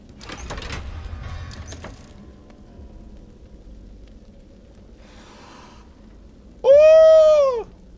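A single loud, drawn-out cat meow from a fantasy role-playing game sounds near the end, after soft clattering and faint background noise.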